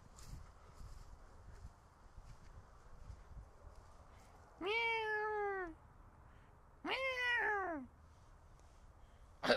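Cats meow indoors, two distinct drawn-out meows a couple of seconds apart over a faint rustling background, ending with a short bump.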